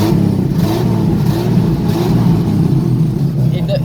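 A car engine with worn valve seals and piston rings, smoking as it runs, revs loudly and close up in a steady, dense roar that fills the whole clip.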